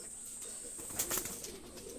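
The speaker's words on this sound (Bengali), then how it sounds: "ছেড়ে দেখাচ্ছি দুইটা কবুতর" A pair of Sialkoti high-flyer pigeons are released. A short, close burst of flapping wings and soft bird sounds rises midway through a brief, quiet stretch of steady background noise.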